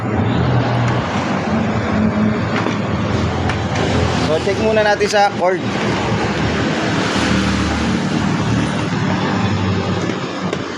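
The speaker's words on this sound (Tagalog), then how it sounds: "maingay dito sa aking shop ano. Dahil tabing highway po tayo dito" Loud, constant traffic roar from a highway right beside a small repair shop fills the room, with a vehicle sweeping past around the middle and someone talking over the din.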